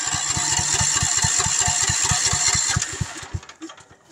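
A small engine, likely a motorcycle, cranks over on a sodium-ion starter battery, with a fast regular chugging of the starter that runs steadily, then stutters and dies away near the end without catching.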